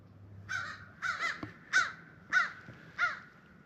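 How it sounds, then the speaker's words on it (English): A crow caws five times in a steady, spaced rhythm, clear and moderately distant in an otherwise quiet outdoor setting near Sky Bridge Arch, Kentucky, above a frozen river. "I hear you, Mr. Crow."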